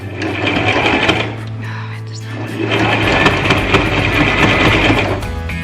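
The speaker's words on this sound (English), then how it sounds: "we're gonna try and back stitch a bit. Hopefully it won't get stuck again." Sewing machine back stitching while upcycling a kid's shelf, a steady loud whirring hum running throughout with a brief slowdown midway before the motor picks up again.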